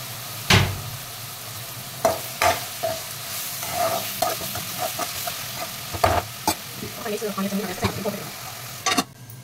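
Onions fry in a pan with turmeric and salt, giving a steady sizzle broken by repeated scraping stirs and clinks against the pan, close and fairly loud.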